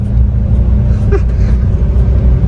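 A 2022 Mahindra Bolero SUV engine pulling hard under acceleration, a loud, close, continuous low rumble with a brief rise in tone partway through.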